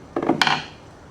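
A glued plug is tapped into a hole in decking, giving a few quick, close wooden knocks in a short cluster that fades quickly.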